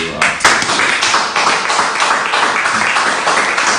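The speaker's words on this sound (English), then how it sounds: "please, you guys give a round of applause to" A room audience at an Omoyele Sowore 2019 campaign gathering bursts into steady, dense applause, many hands clapping together at a fairly loud level for the whole stretch with no break.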